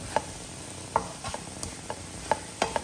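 Grated coconut, half a coconut's worth, stirred into green cowpea beans frying in a pan for kuttipayar thoran: a few faint, sparse scrapes and light taps against a quiet background, with no talking.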